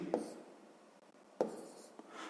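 A pen writes on paper, faint close scratchy strokes with a few sharper taps as the tip touches down, quiet and without talk.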